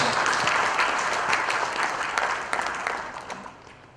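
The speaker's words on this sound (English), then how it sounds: "let's give him a big round of applause" A room full of people claps steadily for several seconds, the applause gradually thinning and fading out toward the end.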